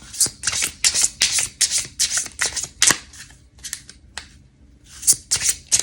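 An astrological oracle card deck being shuffled by hand, close up: quick bursts of riffling, flapping card noise in a rapid rhythm, broken by short pauses, then resuming near the end.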